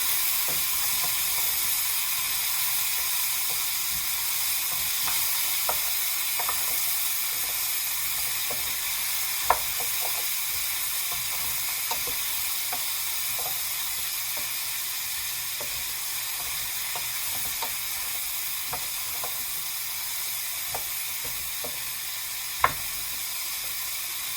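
Green beans stir-fry in a pan for a mixed vegetable dish with coconut milk and meat, giving a steady, continuous sizzle with scattered small pops and clicks and no talking.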